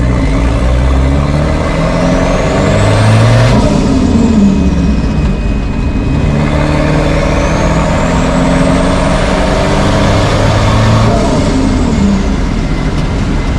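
A turbocharged 2.2-liter Chevy S10 engine revs up and down in loud, rising and falling sweeps with a high turbo whine climbing over the drone, heard close from inside the truck with no talking.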